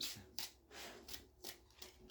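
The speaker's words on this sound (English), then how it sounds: "these cards are not shuffling smoothly. It's chunky." A deck of tarot cards being shuffled by hand, stiff and not smooth, with repeated close riffling and rubbing bursts at an uneven rhythm. No speech.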